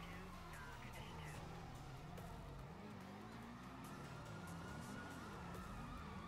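Stock police sirens from Grand Theft Auto, heard while driving a truck in Euro Truck Simulator 2 multiplayer, wail and sweep continuously at moderate loudness over engine rumble and other game noise.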